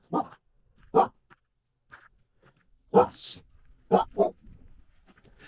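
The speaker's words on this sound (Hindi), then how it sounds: "एक कुत्ता भौंक रहा है यार" A dog barks outdoors in Kalpa, in separate loud, sharp barks: two early on, then a cluster of three later, with quiet gaps between them.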